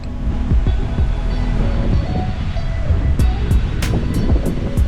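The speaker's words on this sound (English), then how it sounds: "the waves are rocking up a bit harder than usual" Rough ocean surf rolls and crashes along the Barbados shore on a rainy day, a loud continuous roar of breaking waves mixed with gusty wind noise on the microphone.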